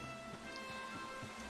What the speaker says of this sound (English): hopefully it's raining